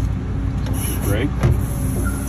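Sennebogen 821 material handler, German built, rolling forward with a steady low engine and drive rumble throughout, close and continuous, with a voice talking over it.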